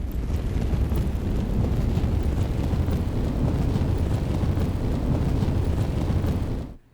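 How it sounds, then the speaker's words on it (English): A low, rumbling bass loop from a magic spell sound effect built for an Unreal Engine game, a dense, steady roar holding at constant loudness for nearly seven seconds before cutting off abruptly. "the loop bass, this is the low one that sounds like this."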